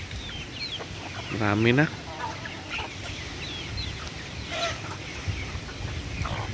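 Farm chickens cluck and call close by in a yard, with a brief loud squawk early on and scattered softer clucks after, while a person speaks a few words.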